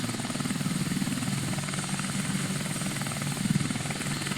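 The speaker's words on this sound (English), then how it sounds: "we deploy the helicopter, and we're going to move the helicopter in" A helicopter flies in the Angola '86 war strategy game, its rotor throbbing in a steady rapid low chop with engine drone, continuous and fairly close, with no talk.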